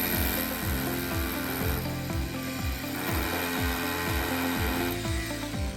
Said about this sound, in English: So the first step is to drill the hole with your hammer drill.